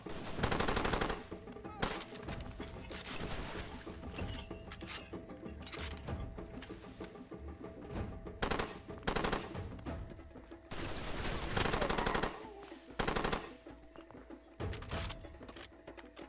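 Sustained machine gun fire in the shooter game Far Cry 2, from a worn American machine gun, rattling in long loud bursts with brief pauses and scattered single shots, dense and close throughout.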